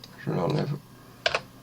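A few quick clicks on a computer keyboard, two short crisp key taps standing out after a burst of speech.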